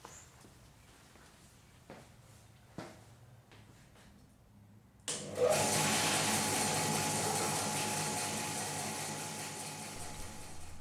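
A bandsaw cuts a laminated guitar neck blank of maple and gum. A few light knocks come first, then the saw starts halfway through and runs as a steady, fairly loud whine to the end.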